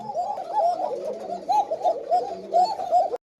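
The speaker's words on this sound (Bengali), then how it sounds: "চিকন ডাকের কবুতর সাদা টোপালা" White pigeons of a thin-voiced breed coo close by in a soft, steady series of rounded calls, repeating for a few seconds before cutting off abruptly.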